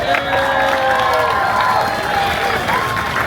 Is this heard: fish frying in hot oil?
no